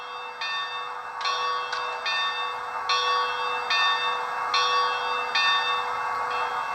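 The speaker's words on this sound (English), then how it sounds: "F1 is bell." Sound-equipped Bachmann HO-scale 2-8-0 steam locomotive model ringing its bell: a steady, evenly spaced run of about eight clear metallic strikes, moderately loud over a faint hum, with no talking.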